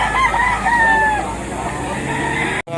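A rooster crows among the poultry at a busy Batangas chicken market, a clear drawn-out call near the start over steady crowd and market noise, with no other voice in the foreground.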